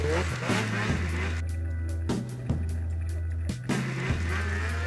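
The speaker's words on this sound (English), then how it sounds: "Ross and Paul ride the new Polaris sled to test the handling and feedback from the new suspension changes." A new Polaris snowmobile with revised suspension is ridden nearby, its engine droning loudly and stepping up and down in pitch as the throttle changes over a few seconds.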